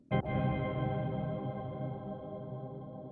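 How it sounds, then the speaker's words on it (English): A sharp struck tone blooms into a lush, shimmering reverb wash made with a pitch shifter in Bitwig, with bright upper harmonics, sustaining and slowly fading over a few seconds. "put pitch shifter in here to create a shimmer reverb"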